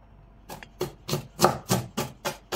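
A knife chops through octopus on a board, cutting it in two for a Provençal octopus fricassée, giving eight evenly spaced, crisp thuds that land close and clear with no talk.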